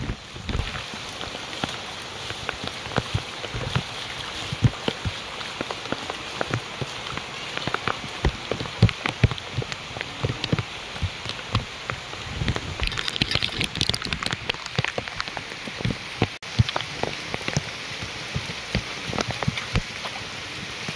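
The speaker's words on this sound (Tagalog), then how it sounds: "Sobrang lakas ng ulan." Heavy rain pours down steadily, a dense patter of drops hitting a surface throughout, with no voices.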